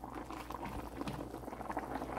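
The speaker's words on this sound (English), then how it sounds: "So let it continue simmer, or you can boil or simmer" Tinolang manok, a chicken soup with vegetables, simmers in a large pot, giving a close, steady bubbling and gurgling that carries on throughout, with no speech.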